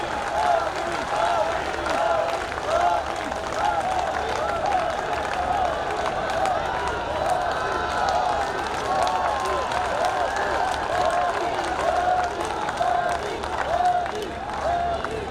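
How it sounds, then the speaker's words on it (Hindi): Large outdoor crowd at a Ramlila and Ravan Dahan event in Dwarka greets the Prime Minister with steady, dense applause and clapping that fills the whole stretch, a loud continuous wash with cheering mixed in. "एक बार जोरदार तालियों के साथ प्रधानमंत्री जी का हार्दिक अभिनंदन और स्वागत।"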